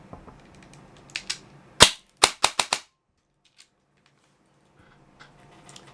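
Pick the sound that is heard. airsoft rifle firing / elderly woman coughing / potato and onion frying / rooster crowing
airsoft rifle firing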